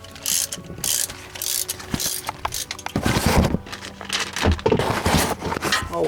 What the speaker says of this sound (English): we're using a 10 millimeter, and we're gonna start loosening all the bolts